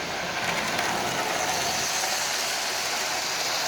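A Lionel 8351 diesel model train locomotive runs along its track with a steady, continuous whirring motor hum and rail rumble, close and even throughout.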